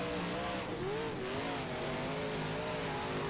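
Race car engines droning steadily in the rFactor racing game at the Glenridge circuit, a continuous loud whine with pitch rising and falling as the cars accelerate and lift, with no pauses.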